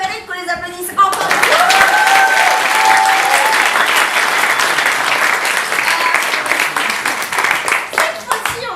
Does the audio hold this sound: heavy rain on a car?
no